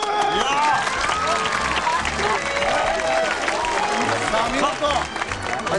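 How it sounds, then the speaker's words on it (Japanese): Applause from an audience at a pool-jump world record attempt, a dense steady wash of clapping with voices talking over it throughout. "拍手"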